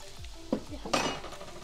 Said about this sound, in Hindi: तो ये उबल चुका है, अब हम इसमें डालने वाले हैं कॉर्नफ्लोर